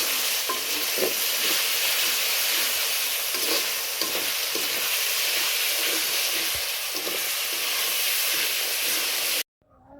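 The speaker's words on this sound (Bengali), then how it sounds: "পেঁয়াজগুলো একটু ভাজা হয়ে গেলে আর আদা রসুনগুলো কষানো হয়ে গেলে" Continuous hissing sizzle of onions, ginger and garlic frying in a pan, close and loud, with occasional stirring scrapes before cutting off abruptly.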